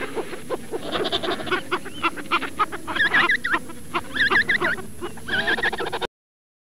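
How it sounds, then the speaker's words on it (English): Penguins make a busy, noisy din with repeated honking, braying calls rising above the mass of overlapping voices, then the sound cuts off abruptly. "Penguin."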